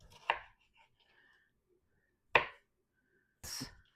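Knife chopping tomato into little cubes on a board, three separate sharp cuts spaced well apart in a quiet kitchen, close and crisp.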